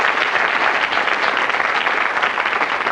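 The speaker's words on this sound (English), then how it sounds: "Give him another round of applause." Steady, dense applause from a TV game show studio audience in 1991, loud and even throughout with no talk over it.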